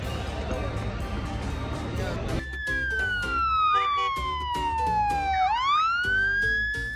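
Fire truck siren on a blocked road: a rough, noisy opening gives way to a loud wailing tone that sweeps down and then rises again, close by.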